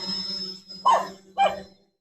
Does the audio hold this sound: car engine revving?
no